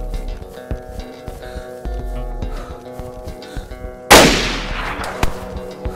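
Gunfire in the video game DayZ: a run of sharp shots, then one loud close blast with a ringing tail near the end, over a low background rumble.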